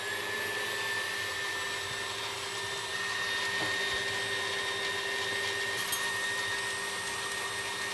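Electric whisk beating meringue, a faint steady motor hum with a constant tone that runs the whole time without pauses or talk.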